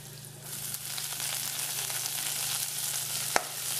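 Sliced vegetable sautéing in a pan gives a steady, close sizzle that builds slightly in the first half second and holds, with one sharp click near the end.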